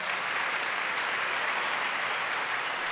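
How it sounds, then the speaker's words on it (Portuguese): A crowd applauds in a dense, even wash of clapping that holds steady for a few seconds with no voices. "Uma salva de palmas para eles"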